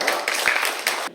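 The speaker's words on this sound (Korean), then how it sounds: "임지영 단원에게 다시 한번 큰 박수 부탁드리겠습니다" Audience applause at a community event at Gangdong-gu Office in Seoul, a brief burst of close, steady clapping lasting about a second.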